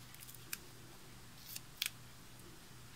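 Tim Holtz scissors cut adhesive tape, giving a few faint, crisp snips, including a quick double snip, spaced over a quiet background, close but soft.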